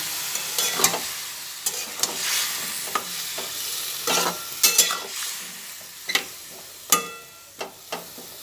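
Mixed vegetables for a jolbora curry sizzle in a pan after water is added, a continuous frying hiss with repeated clinks and scrapes of stirring at an irregular rhythm.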